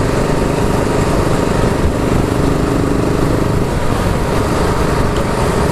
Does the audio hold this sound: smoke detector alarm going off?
no